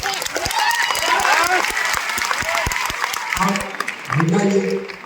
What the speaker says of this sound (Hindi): ये ताली बजाने का कोई कारण नहीं है